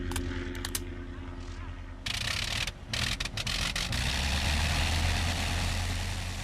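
A World War I fighter plane engine runs before takeoff, a rough low rumbling drone that swells and grows louder and more continuous partway through, with a voice talking over it.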